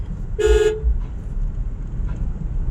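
Road traffic on the way to Chotila hill, with a single sharp car horn toot over a steady low rumble of passing vehicles, close and loud.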